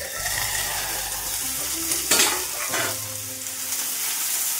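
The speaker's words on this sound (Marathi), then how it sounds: "आधी मी 1 चमचा तेल टाकून घेणार आहे। हिरव्या मिरच्या टाकायच्या आहे" Green chilies frying in a spoonful of oil in a pan, a steady close sizzle with a brief clatter of stirring partway through.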